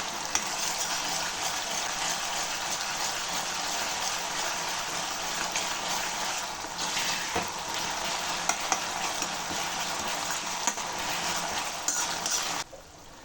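Mushroom kalan, a roadside Indian street-food dish, is stirred as it fries in a pan, giving a steady loud sizzle with soft scraping from the utensil throughout.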